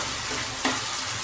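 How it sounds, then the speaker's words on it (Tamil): Ginger garlic paste sautéing in a pan, a brief close hiss with a single soft scrape partway through. "இஞ்சி பூண்டு பேஸ்ட்டு போட்டு அந்த பச்சை வாசம் போக வரையிலும் வதக்கிக்கணும்."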